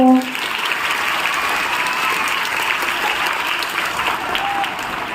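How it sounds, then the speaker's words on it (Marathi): A crowd claps steadily and loudly at a prize-giving event, with continuous dense applause that holds at an even level throughout. "जोरदार टाळ्या वाजवा मुलांना"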